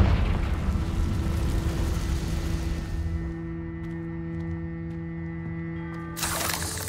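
A Confringo fire-blast spell explodes in Hogwarts Legacy: a loud, broad roaring burst lasts about three seconds, then settles into a steady low hum, and a brief noisy flare returns near the end.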